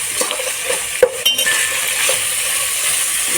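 Mint and coriander sprigs being stirred into frying masala in a pan, with a continuous sizzle, scraping spoon strokes and a sharp metallic clink of utensil against pan.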